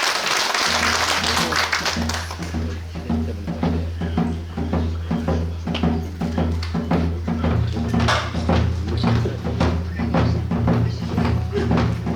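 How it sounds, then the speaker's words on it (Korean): Audience applause at a community arts performance in Seoul's Gangseo district, scattered clapping over a steady low sustained tone, with sharp individual claps standing out and the clapping continuing throughout. "큰 박수 부탁드립니다"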